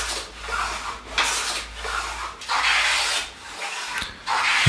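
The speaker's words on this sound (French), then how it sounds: "Et je mets la touche à sa forme définitive, avec le rabot à recaler, le tout sur la planche à recaler." A guitar fretboard being planed to its final shape on a leveling plank for a baritone guitar, with loud rasping strokes in an uneven rhythm of passes and short pauses, close and without talk.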